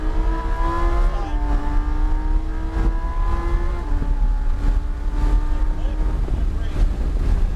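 A Lamborghini accelerating hard down a straightaway toward 130 mph, its engine note climbing steadily through the gears with brief dips at shifts, loud and continuous under wind rush from inside the car.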